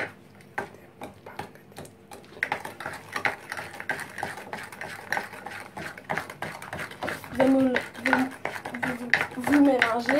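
Chocolate mousse mixture beaten quickly in a bowl, with rapid irregular scraping and clinking of a utensil against the bowl, while someone speaks over it intermittently.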